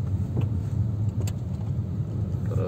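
Manual car pulling off in first gear on half clutch, a low steady engine hum close by with a faint rattle and a slight rise near the end.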